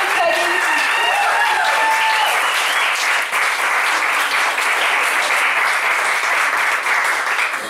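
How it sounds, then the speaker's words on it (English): Audience applause after a talk, loud and sustained with a dense steady wash of clapping that holds for the whole stretch; a faint voice is briefly heard near the start. "Liora Claff, another round of applause"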